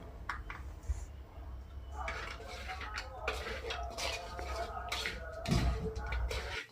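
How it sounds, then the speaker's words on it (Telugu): Chopped coriander is stirred into spicy chicken fry in a pan, with spoon-on-metal clinks and scraping that come and go in uneven strokes, fairly quiet throughout. "ఇప్పుడు లాస్ట్గా కొంచెం కొత్తిమీర వేసుకొని బాగా మిక్స్ చేసుకుందాం."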